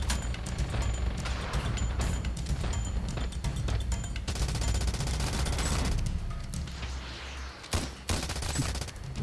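Dense, continuous gunfire fills a Ravenfield battle, rapid shots and bursts overlapping with booms throughout, loud and busy with no talking.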